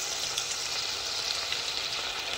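Steady sizzling and frying of a mango mutton curry in a pan as tomatoes go in, a constant close hiss with no talking.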